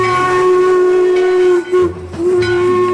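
A sustained, hissing steam-style toy locomotive whistle blows loudly, briefly breaking off and resuming, with no talking.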